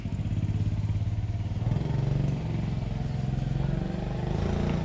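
A Yamaha Mio i 125 scooter engine with a dirty throttle body runs close by, idling roughly and near stalling, with a steady low drone that wavers slightly throughout.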